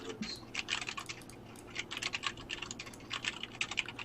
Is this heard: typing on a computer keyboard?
yes